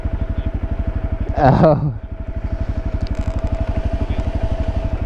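A Yamaha XT motorcycle engine idles and chugs in a steady, rapid thump during wheelie practice, loud and close, while a brief exclamation is heard over it midway.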